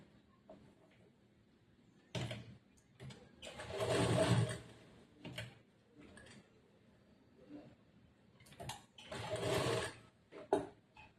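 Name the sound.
sewing machine stitching churidar pant fabric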